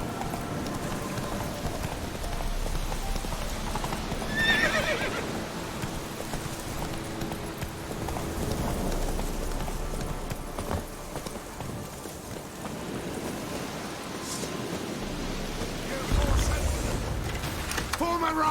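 Hooves of a galloping horse in the Witcher 3 game, a rapid rhythmic pounding under a busy mix of wind, movement and game sounds, mid-distance and fairly even.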